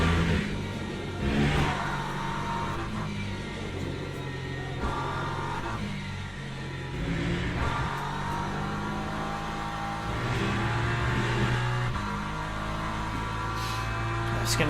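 LMP3 prototype racing at Silverstone in Le Mans Ultimate, its engine droning and rising and falling through gear changes as the car laps, with someone talking over it throughout.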